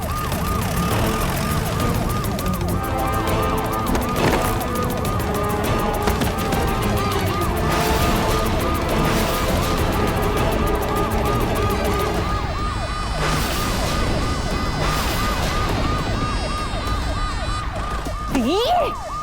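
A loud police car siren wails continuously in rising and falling sweeps, close by and dominant for the whole stretch, with a brief change in pattern near the end and a faint voice at moments.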